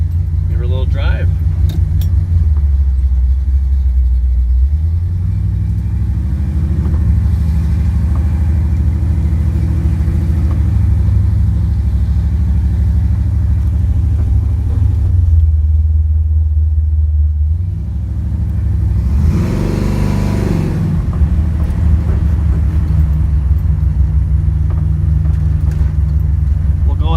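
A 1966 Chevrolet Chevelle's engine rumbles steadily while it is driven, the low growl rising and falling as the throttle changes, with someone talking over it at times.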